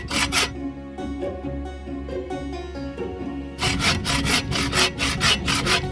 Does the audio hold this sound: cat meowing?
no